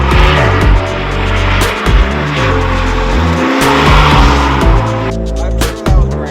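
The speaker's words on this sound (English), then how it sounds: "So I'll just come that way and just do some donuts." An S650 Ford Mustang doing donuts, its engine roaring loud and close with shifting revs while the tires squeal continuously through repeated slides, the pitch dipping and rising with each rotation.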